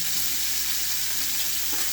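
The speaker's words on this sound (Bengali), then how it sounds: "মাছগুলো হালকা করে ভেজে নেব" Tilapia pieces sizzle as they fry in hot oil, a loud, close and unbroken hiss with no pauses and no voices over it.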